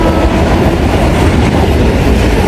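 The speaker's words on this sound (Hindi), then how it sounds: "मुझे तो ऐसे ही लग रहा है कि जैसे ट्रेन गुजर ही जाएगी, क्योंकि दोबारा से स्पीड पकड़नी शुरू हो गई है।" A Pakistan Railways passenger train on the Lahore to Peshawar line runs at speed, giving a loud, steady, continuous rumble and roar of wheels on track heard close up from on board, with no voices.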